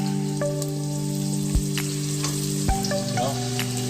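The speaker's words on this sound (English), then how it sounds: "I just want the flavor of the garlic to be infused in the oil." Chopped garlic frying in hot oil for Cantonese-style bok choy, a steady close sizzle with occasional sharper pops and spatters, heard alone without talk.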